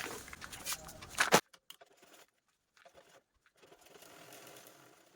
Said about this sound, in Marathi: यांची रुंदीचा पार्ट आहे तो अगोदर आपल्याला स्टिच करून घ्यायचं आहे